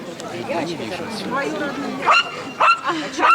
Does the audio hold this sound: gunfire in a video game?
no